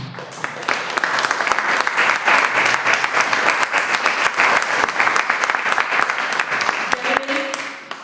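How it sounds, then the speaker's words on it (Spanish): Audience applause at a talk on Buddhism and feminism, a steady wash of many hands clapping for the full length, fairly loud and dense, with a faint voice near the end. "Un aplauso para Mónica."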